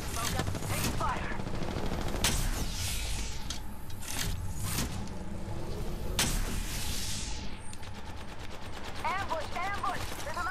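Rapid gunfire in the battle royale game Apex Legends, loud, dense bursts of shots cracking over constant game noise, with a voice speaking underneath.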